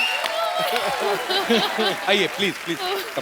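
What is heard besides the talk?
studio audience applause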